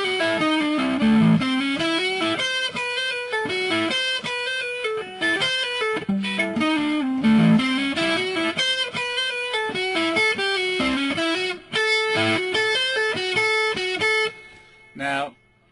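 A distorted electric guitar plays a slowed-down blues-rock lick, full of hammer-ons and pull-offs. It is steady, continuous and close, with no talking over it.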